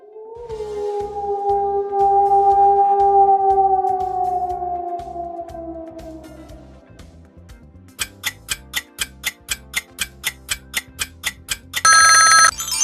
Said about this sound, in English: A wolf!